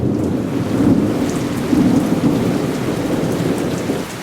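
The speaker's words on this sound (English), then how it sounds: "We did finally get some rain with some massive thunder and lightning in it." Heavy spring rain pours steadily with deep, rolling thunder rumbling throughout a thunderstorm. The sound is loud, dense and continuous, with no voices.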